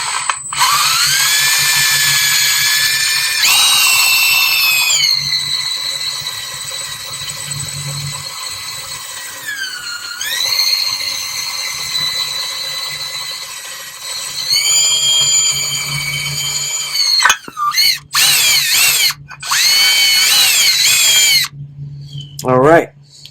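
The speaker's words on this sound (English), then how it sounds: "Aluminum's fairly soft, so this is not a heavy lift for the drill." A power drill fitted with a step bit cuts through an aluminum filler panel during a BMW R18 B motorcycle retrofit, its whine loud and close in long sustained runs with brief pauses and restarts toward the end.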